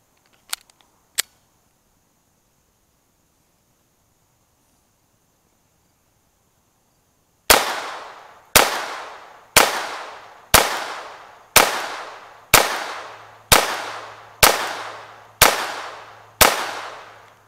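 Ten CCI Mini-Mag .22 rounds fire through an Advantage Arms conversion in a steady string of sharp, loud cracks about a second apart, preceded by two faint clicks and a stretch of quiet.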